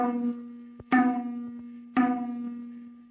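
A madal drum's open stroke, called tang, struck with the index finger, rings out three times at about one-second intervals, each strike leaving a sustained, resonant tone that fades slowly.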